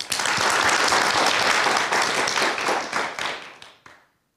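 Audience applause at the close of a debate on energy and culture: dense, sustained clapping from a full room, loud and steady before thinning into a few scattered last claps and silence.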